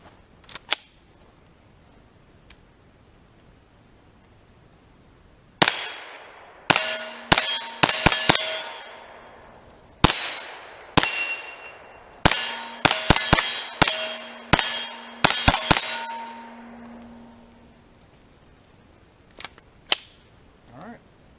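Shots from a Kel-Tec Sub2000 Gen 2 9mm rifle, each followed by a ringing clang off steel targets. About a dozen sharp reports come in irregular clusters after a long quiet start.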